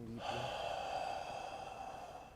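A single deep inhalation during a yoga session, a close, audible breath drawn in through the nose and held steady for about two seconds, alone without speech.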